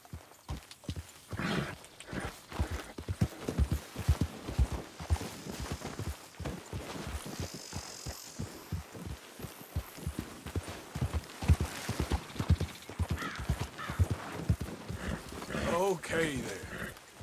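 Horse hooves clip-clopping in Red Dead Redemption, a steady run of close, crisp hoofbeats continuing throughout, with a person talking over them at times.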